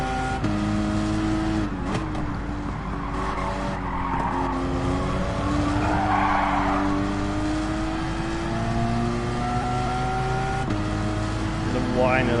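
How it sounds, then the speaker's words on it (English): Race car in Gran Turismo 7 during a GT3/GT4 daily race lap, a steady whining turbo and engine drone held through corners with tire squeal, while someone talks over it throughout. "Whine of that turbo there."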